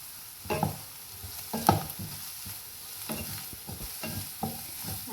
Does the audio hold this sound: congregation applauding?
no